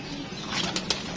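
A healthy, active pigeon beats its wings in a few short, papery flaps that rise out of a steady background hiss, close at hand and without speech.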